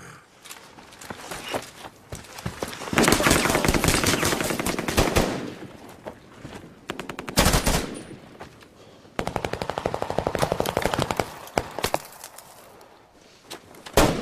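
Rapid bursts of automatic gunfire from a 2011 Latin American Spanish-dubbed special forces action film, loud and close, coming in several clustered volleys with short gaps between them.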